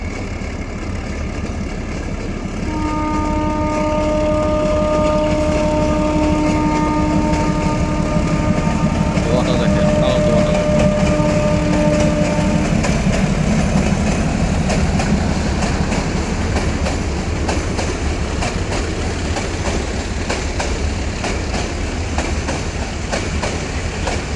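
A diesel train engine headed toward a bridge for Mymensingh runs with a loud, steady throbbing drone and a long horn-like tone, followed by continuous rolling clatter.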